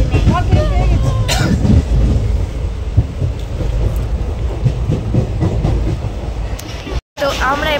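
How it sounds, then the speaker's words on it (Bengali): A passenger train rolls along the rails with a loud, continuous low rumble and rattle heard from inside, and voices speak over it now and then. "তো আমরা এবার চেপে গেছি ট্রেনে"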